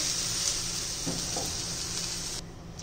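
Cheese uttapam sizzling on a hot pan, a steady broadband frying hiss running throughout with a couple of faint soft taps partway, quieting slightly near the end; no talking.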